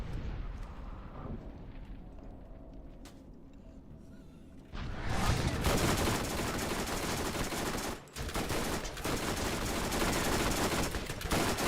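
SMG gunfire in Borderlands, a dense, continuous stream of rapid shots that starts after a quieter opening, loud and close, with one brief pause before the fire resumes.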